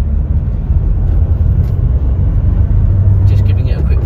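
A 2017 Vauxhall Vivaro 1.6 CDTI Sportive long-wheelbase van with the 125 PS diesel drives up a road, a loud close low engine rumble droning steadily with a slight swell toward the end.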